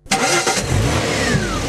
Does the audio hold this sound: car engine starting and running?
yes